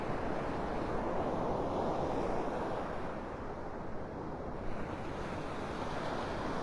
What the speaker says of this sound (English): Come on, waves. Take this little baby out.